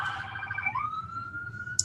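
A brief electronic siren wail rises and holds a steady tone, fairly close and clear, ending with a sharp click.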